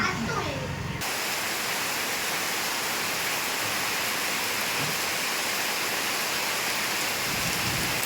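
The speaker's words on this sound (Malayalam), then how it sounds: "രാവിലെ പെയ്യേണ്ട മഴയാണ് അല്ലേ" Morning rain falls steadily as a loud, continuous broadband hiss that fills the whole stretch, preceded by a short, different-sounding opening moment.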